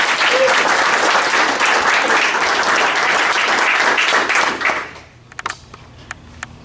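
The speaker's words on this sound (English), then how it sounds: "One person in here deserves the most applause. Amanda, absolutely." At a Rotary Club meeting, a room of people applauds loudly and continuously for about five seconds, then the clapping stops abruptly, leaving a few scattered taps and room noise.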